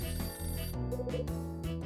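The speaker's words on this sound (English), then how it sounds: "That's my phone. I better get that." A telephone rings in the detective game Last Window: The Secret of Cape West, with a steady electronic trill repeating in bursts over soft background music, fairly quiet and with no talking.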